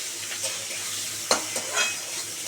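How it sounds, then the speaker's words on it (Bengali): Two chopped onions sizzle steadily in a hot pan for a Bengali chitol fish-head kalia, with a few stirring scrapes and utensil clinks punctuating the even frying hiss; no one speaks. "এবার একটু লাল লাল করে ভাজা হোক"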